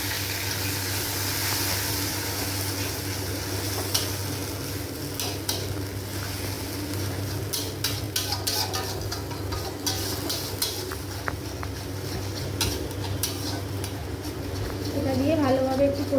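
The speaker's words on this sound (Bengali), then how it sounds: "এবার এর মধ্যে টমেটো আর কাঁচা লঙ্কার পেস্টটা দিয়ে দিচ্ছি" Tomato and green chilli paste hitting a pan of fried ginger and garlic, with a steady low sizzle and scraping stir strokes, a few sharper clinks and a louder sputter near the end, under continuous background hum.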